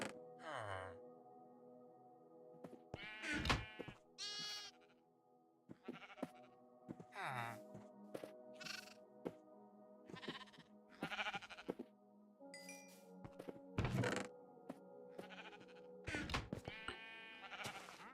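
Repeated sheep bleats from a Minecraft-style game, several distinct calls spaced irregularly over a quiet background, some overlapping, with a player speaking briefly between them.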